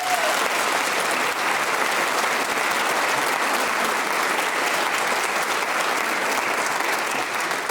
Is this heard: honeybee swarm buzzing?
no